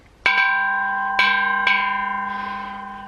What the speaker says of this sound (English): We have a little bell.